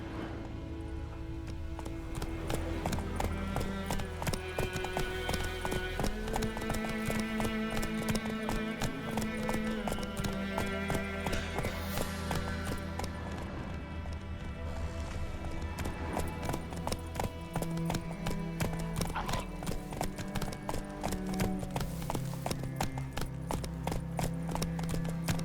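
Horse galloping in The Witcher 3 video game, steady quick clip-clop hoofbeats over game music, with a voice speaking briefly.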